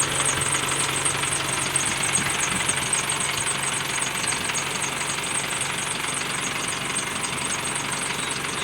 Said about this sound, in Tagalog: maingay lang yung belt nito mga boss, pero good na good na yung makina